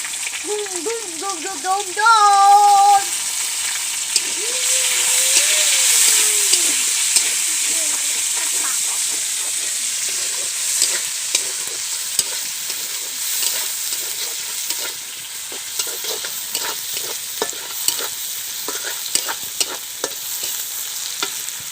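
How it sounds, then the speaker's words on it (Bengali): Chopped onions fry in a pan for a village-style chicken curry, a steady rain-like sizzle with scattered crackles and stirring, while a voice speaks briefly near the start. "আমি এই কেটে রাখা পেঁয়াজগুলো দিয়ে দেবো।"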